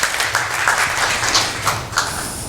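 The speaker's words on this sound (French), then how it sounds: "Vous pouvez l'applaudir." An audience at a talk on collaborative agriculture claps for a photographer, a steady mid-distance patter of many hands with a few sharper claps standing out, lasting a couple of seconds.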